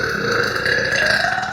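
A girl lets out one long, loud, close burp that drones steadily for over a second with no talking.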